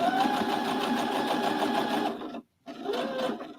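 A sewing machine stitches quilt block seams in a fast, even rhythmic whir, pausing briefly near the end before the stitching resumes, close and clear.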